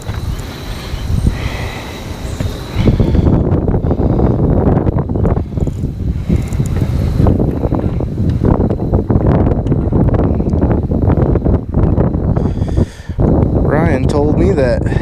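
Strong wind buffeting a microphone with heavy, continuous low rumbling and gusty roar, constant and close throughout.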